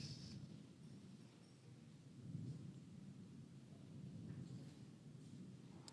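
Faint, distant thunder rolls beneath a soft wash of rain, low and continuous with gentle swells, no voices present.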